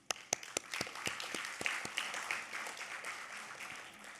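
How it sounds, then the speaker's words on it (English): An audience at a women's leadership award ceremony applauds, starting with a few sharp, separate claps that quickly swell into steady applause before slowly thinning out. "Please send them an applause and congratulations."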